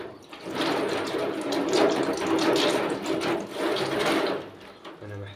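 Water runs steadily during a screen printing washout, a close, continuous splashing rush that continues for several seconds before cutting off near the end.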